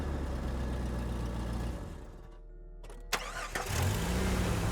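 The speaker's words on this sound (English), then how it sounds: "The engine sputtered to life." A jeep engine with a faulty spark plug cranks and sputters to life, a loud, steady low rumble that dips midway, then catches with a sharp burst before running rough and close.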